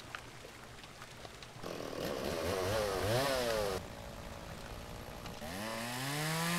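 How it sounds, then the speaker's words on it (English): Chainsaw in the farming video game Farmer's Dynasty, its engine idling, then revving loudly with rising and falling pitch as it cuts trees, dropping back and surging again to a steady high whine. "We've got ourselves a chainsaw now, haven't we?"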